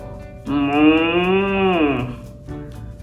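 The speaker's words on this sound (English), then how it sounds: "What do the cows say? Moo, moo." A cartoon-style cow from a children's farm-animal toy gives one long, loud, close moo that rises and falls for about a second and a half, standing alone with no talk over it.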